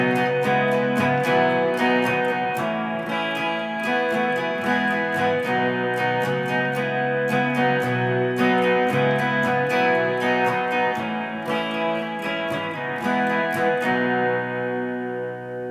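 Steady strummed electric guitar plays the verse chords of a song, a chorus-tinged tone with rhythmic strokes throughout before a final chord rings out, with no talking.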